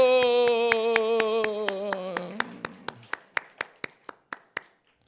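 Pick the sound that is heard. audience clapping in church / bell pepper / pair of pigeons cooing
audience clapping in church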